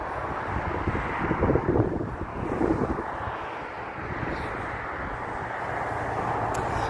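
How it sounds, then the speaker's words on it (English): Wind gusting on a morning walk outdoors in Las Vegas, heard as a loud, continuous rumbling roar with microphone buffeting that swells in the first few seconds, then holds steady, with no talking. "that wind's kicking up a little bit"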